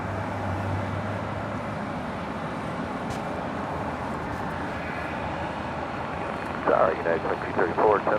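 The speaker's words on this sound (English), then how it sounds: "the Korean Air A380 Super will continue the taxi" A Korean Air A380 taxis at Los Angeles International Airport, giving off a steady, broad jet roar that holds evenly throughout, with a voice coming in briefly near the end.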